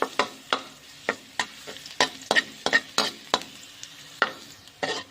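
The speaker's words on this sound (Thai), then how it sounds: "เอากระเทียมซับลงไปเจียวกันนะเจ้า" Chopped garlic sizzles and crackles in hot oil while a utensil repeatedly scrapes and taps against the pan in an uneven rhythm.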